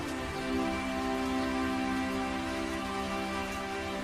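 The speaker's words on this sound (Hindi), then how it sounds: "कि अचानक बारिश शुरू हो जाती है।" Rain starting to fall along a road, a steady broadband hiss of drops under a constant tonal hum, even in loudness throughout, with no voices.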